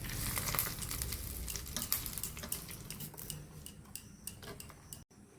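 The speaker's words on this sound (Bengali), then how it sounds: "তেল আমার গরম হয়ে গেছে, আমি দিয়ে দিচ্ছি সরষে, দিয়ে দিচ্ছি একটা লঙ্কা ছোট ছোট করে কেটে নিয়েছি, দিয়ে দেবো কারি পাতা।" Mustard seeds, chopped chili and curry leaves crackle and sizzle in hot oil, a steady broadband fry with scattered sharp pops and a few utensil clinks, close and fairly loud, with no voices.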